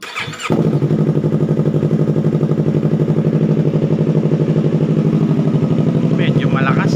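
A Yamaha R3 motorcycle fitted with an aftermarket twisted-elbow exhaust and resonator starts up, then settles into a loud, close, steady idle with a throbbing rhythmic pulse throughout.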